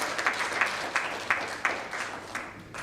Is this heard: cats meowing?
no